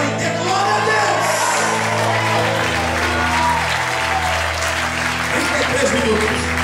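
A church congregation at an anniversary service in London applauds loudly and continuously, with shouts and whoops rising through the clapping, over a sustained low musical drone from the band.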